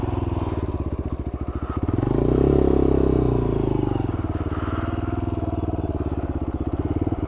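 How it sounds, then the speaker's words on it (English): A motorbike idles and rumbles loudly close by in a steady, pulsing beat while it is turned around on a UK storm chase. The engine swells briefly, then settles back to its chugging idle. "I think what I'll do is I'll turn the bike around now."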